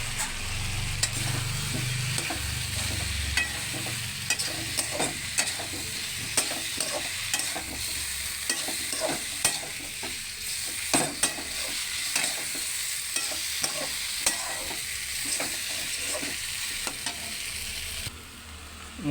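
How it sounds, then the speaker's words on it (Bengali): Soybean chunks and potatoes stir-fried into a spice masala give a soft, continuous sizzle broken by frequent scraping and clattering strokes of a spatula in the pan, with a low rumble early on and no talk. "এইবারে আমি সয়াবিন আলু দিয়ে দেবো।"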